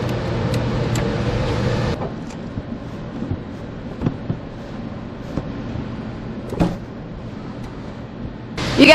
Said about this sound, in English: please bear with us on the noise. I've got the heater on because it is freezing out here.